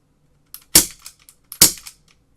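Tokyo Marui MK23 SOCOM airsoft pistol, a 350 fps model, fired without its silencer: two sharp, loud, snappy cracks about a second apart, each with a short mechanical rattle, close to the listener.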